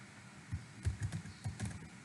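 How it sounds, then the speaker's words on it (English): Computer keyboard typing while entering values into a Xamarin Forms date picker app: a sparse run of soft key taps in small irregular clusters, close and quiet, with no talking. "So initially I am typing something like"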